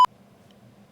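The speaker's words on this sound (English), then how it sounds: "so we can do a default, which is just beep" One short, clean electronic beep from a RODECaster Pro II sound pad, a quick tone followed by faint room hum.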